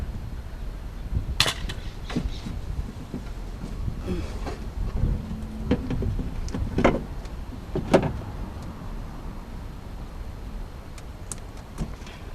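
Whining motor of a power window regulator in a 2008 Acura TL with broken plastic parts: a low, wavering mechanical whine with clicks and knocks over a steady noisy background.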